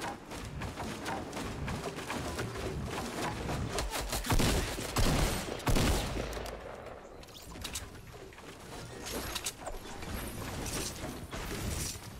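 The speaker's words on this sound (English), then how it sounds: "Someone's shooting at me." Gunfire crackles in a PUBG match, with repeated shots and mechanical clatter around footsteps and movement, moderately loud and continuous with no voices.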